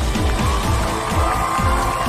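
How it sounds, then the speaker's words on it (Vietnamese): Studio audience at a live televised Vietnamese singing competition finale applauds and cheers for the runner-up couple, a steady dense wash of clapping and crowd noise over background music, loud and continuous throughout. "Một tràng pháo tay dành cho cặp đôi Á quân của chúng ta."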